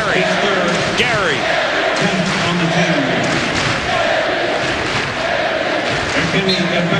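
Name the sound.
basketball crowd chanting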